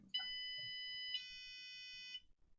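An electronic buzzer on a hobby electronics project board sounds a steady, piercing tone, shifting pitch once partway through, then cuts off; faint background noise underneath.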